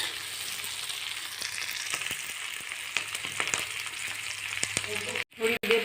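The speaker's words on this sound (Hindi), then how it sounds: "हम इसको थोड़े समय के लिए तेल में फ्राई कर लेंगे।" Slit green chillies fry in hot oil for a pickle, giving a steady close sizzle with scattered pops and stirring clicks, and a short break near the end.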